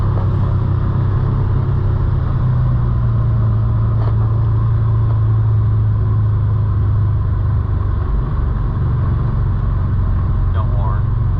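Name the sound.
Can-Am Defender side-by-side engine during test drive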